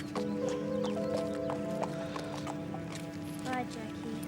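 A horse whinnies and its hooves clip-clop nearby, fairly quiet, while a voice talks over the animal sounds throughout.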